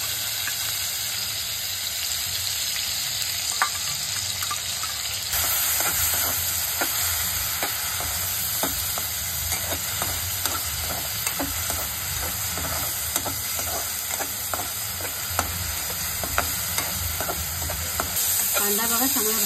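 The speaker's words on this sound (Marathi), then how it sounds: "ती चांगली भाजून आपल्याला लाल करून घ्यायची आहे" Onion paste frying in hot oil for an elephant foot yam curry, a steady close sizzle and hiss with repeated scraping stirs against the pan throughout, no talking.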